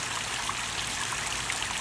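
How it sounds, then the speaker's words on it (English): Water runs steadily into a restored concrete fountain basin, a continuous close trickling and splashing hiss with no pauses and no voices. "And then this will fill up with water"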